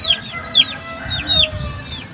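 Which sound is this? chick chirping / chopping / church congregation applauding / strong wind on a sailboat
chick chirping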